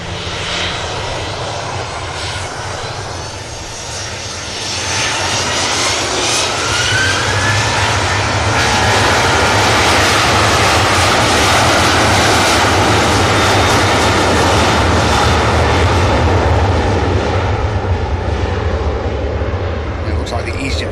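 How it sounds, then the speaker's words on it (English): A Ryanair jet makes a rolling-start takeoff, its engines rising from a moderate rumble to a loud, sustained roar with a faint whine sweeping upward, holding strong and near until the end. "Ryanair rolling start by the looks."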